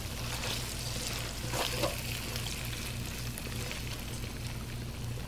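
Bamboo tips being added to a thick red curry sauce with chili oil in a pan, giving a steady frying sizzle with soft stirring and pouring sounds throughout, no talking.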